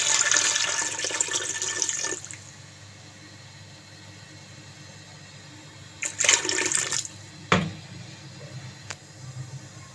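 Water poured into a pressure cooker for a bitter gourd and meat curry, a loud gushing pour for about two seconds, then quieter running water and a second short splashing burst with a clunk, no talk.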